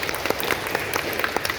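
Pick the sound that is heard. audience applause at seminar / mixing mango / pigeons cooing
audience applause at seminar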